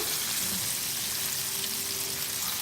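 KFC-style chicken pieces frying in hot oil produce a loud, continuous crackling sizzle that stays steady throughout, close up and with no talking.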